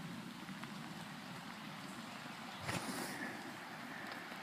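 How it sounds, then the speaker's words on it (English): Steady rain falls outdoors in a dense, constant patter on surfaces, with a brief louder splash near the middle and no voices. "It's pretty rainy out."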